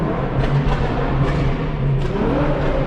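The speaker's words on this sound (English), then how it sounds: "They're already revving" Exotic sports cars at an outdoor car show in Toronto's Yorkville, with engines rumbling and one revving up in a short rising sweep amid a steady wash of crowd and street noise.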